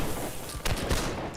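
Musket volley in the line-battle game Holdfast: Nations at War, a couple of loud broadband cracking bursts over a continuous battlefield din.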